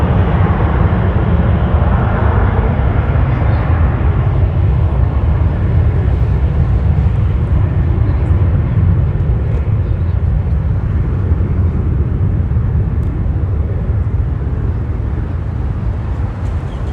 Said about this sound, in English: Nice smooth landing for that